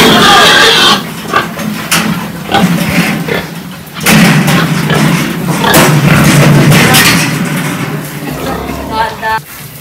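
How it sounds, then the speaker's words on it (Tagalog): Startled pigs at a market in the Philippines squeal and grunt among heavy thumps and knocks, with loud bursts coming and going over a busy background and people talking nearby. "Nagugulat ng baboy."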